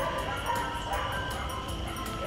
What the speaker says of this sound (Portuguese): E muito cachorro.